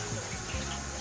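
Water poured from a cup into flour in a kitchen, a brief steady trickle and splash lasting about a second, close and fairly quiet with no talking.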